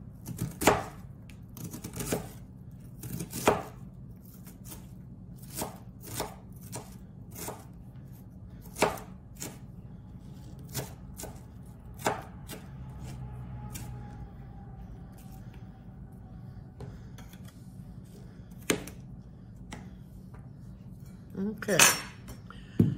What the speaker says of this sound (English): And this is how I chop my onion up.